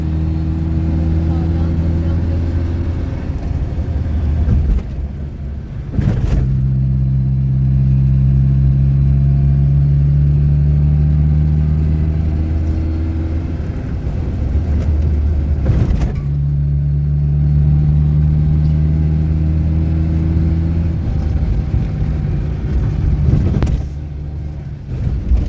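A car engine labors steadily while climbing up a mountain, a loud mid-range drone with shifting tones and a few abrupt thumps, sounding close by, with people talking over it at times.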